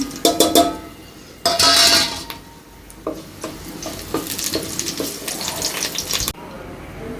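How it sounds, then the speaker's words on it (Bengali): Dry chillies frying in hot oil in a pan set for jute leaves, a close bright sizzle with bursts and stirring clatter, uneven and alone. "পাট শাক ভাজার জন্য শুকনা মরিচ দিয়ে দিলাম।"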